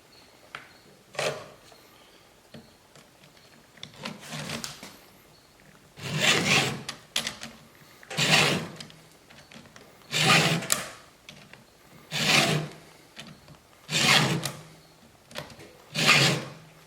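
A hand file sharpens a chainsaw chain in slow, regular rasping strokes, about eight distinct passes spaced roughly two seconds apart, close and clear with no talking.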